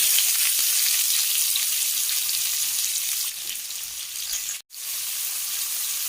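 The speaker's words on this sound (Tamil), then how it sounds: "ஆனியனை நல்லா ப்ரௌனிஷாக வறுத்துக்கலாம்" Three large sliced onions frying in hot oil with cumin and curry leaves, a bright continuous close sizzle that drops slightly partway and cuts out for an instant before resuming.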